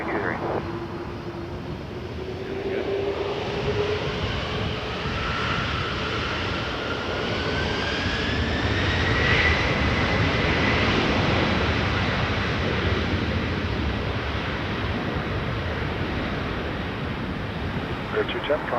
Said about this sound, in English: Runway 23, clear for takeoff, FedEx 147 Heavy.